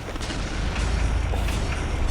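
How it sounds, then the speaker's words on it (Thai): Explosive floor trap detonating in the mobile shooter Pixel Gun 3D, a dense, sustained booming roar with heavy low rumble that stays loud for the whole span, with no talk over it. "ตอนนี้แต้มเราก็สามสิบต่อยี่หกวางกับดักระเบิด"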